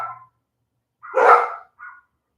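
A single loud dog bark, with a shorter, fainter yip just after it, close by and otherwise quiet.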